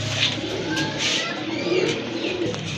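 Running pigeons, a flock kept for sale, cooing in soft repeated low calls close by, with a steady background of bird chatter throughout.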